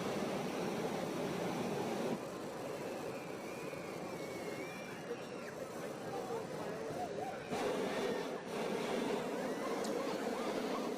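Many hot air balloon burners fire together in an all-burn at an evening balloon fiesta, making a broad, sustained roar that fills the air and shifts slightly in tone, with distant crowd noise mixed in.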